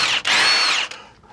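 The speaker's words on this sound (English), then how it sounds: "we're gonna remove these with an impact" An impact wrench with a chrome adapter and 3/8 socket spins off front brake caliper bolts on a 2008-2012 Chevrolet Silverado 1500, two loud whirring bursts, the first short and the second longer, then a fading tail.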